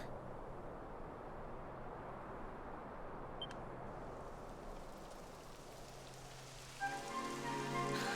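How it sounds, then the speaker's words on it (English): Steady rain pattering on surfaces all around in the video game Dragon Quest XI, with a faint beep near the end as a louder patter joins in. "It would have to go and start raining, wouldn't it?"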